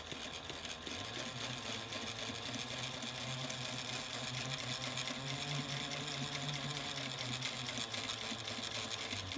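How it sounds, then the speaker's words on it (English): A sewing machine runs steadily, stitching quilted exterior panels for a handbag in a continuous, even whir with no talking. "Now we're going to sew just to the right of the line that we just sewed on the same lines."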